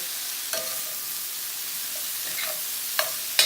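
Cauliflower frying in butter in a pan gives off a steady, even sizzling hiss, broken by a few sharp spoon clicks and scrapes, with no talking.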